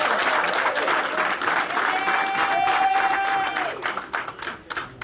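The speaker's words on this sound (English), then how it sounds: "I think you can clap." Audience applause at a press briefing to the nation, a broad dense wash of clapping held steady for about four seconds before thinning out toward the end, with a brief tonal whine rising through the middle.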